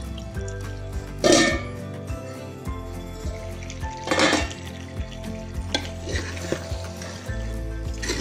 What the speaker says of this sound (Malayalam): ഓരോ മിനിറ്റ് ഇടവിട്ട് നമ്മളിത് ഇളക്കി കൊടുത്തുകൊണ്ടിരിക്കണം.